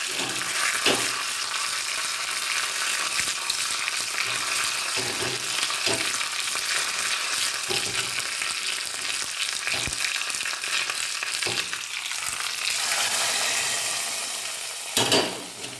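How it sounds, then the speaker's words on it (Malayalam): Mustard seeds, fenugreek and curry leaves fry in hot coconut oil for a rasam tempering, a loud continuous sizzle with scattered sharp pops and crackles throughout. "വെളിച്ചെണ്ണ അടുപ്പത്തി വെച്ച് കടുകിട്ട് ഒരു കാ ടീസ്പൂൺ ഉലുവി കറിവേപ്പില ഇളക്കുന്നത്"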